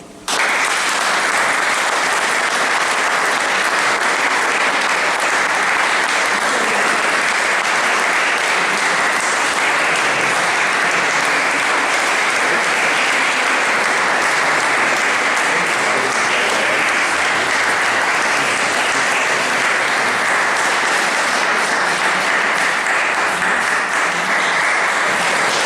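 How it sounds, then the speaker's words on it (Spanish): Sustained crowd applause at a tribute ceremony held by a town council in Grado, a dense, steady wash of many hands clapping that stays loud and even for the whole stretch. "Yo pido un aplauso."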